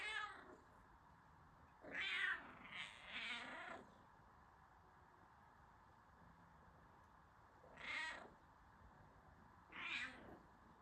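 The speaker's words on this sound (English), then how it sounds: "I think there are two cats." Two house cats meow indoors, one call after another in four or five separate bursts spaced over several seconds, fairly faint against a quiet room hum, with no talking.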